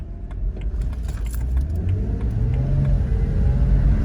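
A 2011 BMW 328i engine hums steadily from inside the cabin, its pitch rising smoothly as it accelerates, with road rumble and faint rattling underneath.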